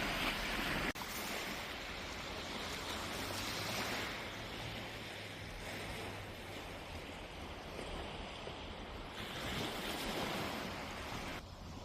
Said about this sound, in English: So this is Ross Bay Beach.